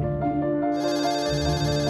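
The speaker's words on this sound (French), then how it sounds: "Notre histoire commence par un coup de téléphone." A telephone rings with a bright electronic tone, repeating in short pulses close up with no voices.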